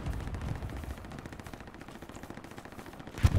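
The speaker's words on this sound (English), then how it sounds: "I suppressed the machine gunner." Bursts of machine gun fire from a WW2 video game assault on Sainte-Mère-Église, dense and continuous at moderate distance with a louder close burst near the end.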